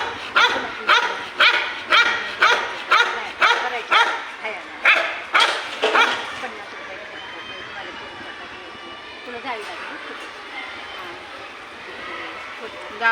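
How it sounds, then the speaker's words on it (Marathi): A large, fierce guard dog at a gate barks repeatedly, about ten loud, close, evenly spaced barks over several seconds, then falls quiet while outdoor background sound continues. "कसलं डेंजर कुत्रं आहे बाई."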